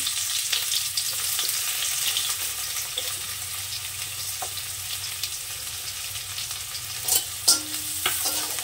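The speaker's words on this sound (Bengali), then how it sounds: "পেঁয়াজটাকে হালকা একটু ভেজে নেব।" Chopped onion frying in hot oil with cumin seeds, a steady close sizzle under the scrape of a stirring spoon, with a few sharper clinks and splashes near the end.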